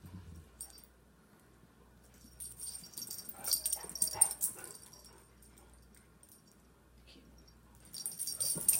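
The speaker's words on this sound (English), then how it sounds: "Why is she barking" A beagle or bluetick coonhound at play gives short yips and whimpering barks in a couple of bursts, fairly faint and separated by quieter stretches.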